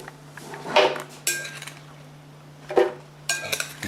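Chopped onions being dumped into a Vitamix blender, heard as a few separate clattering, clinking bursts of pieces and container knocks against a steady low hum, with no talking.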